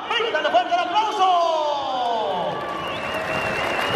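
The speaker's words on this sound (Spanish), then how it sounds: "¡Brindale fuerte el aplauso!" Crowd applause and cheering at a jaripeo rodeo in Guanajuato, steady and fairly loud, mixed with an announcer's amplified voice talking over it throughout.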